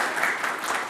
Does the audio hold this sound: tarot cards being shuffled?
no